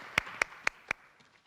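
Four sharp, evenly spaced claps ring out in a school hall at a district literacy competition, fairly quiet and sparse rather than a full audience ovation, then fade.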